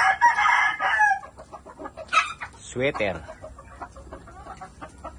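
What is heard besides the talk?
chickens, gray hens and fighting cocks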